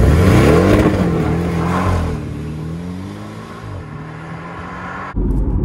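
A Porsche Cayman GTS with limited slip differential and torque vectoring pulls under throttle, its engine droning loud and steady from inside the car, rising then easing before an abrupt shift in tone near the end.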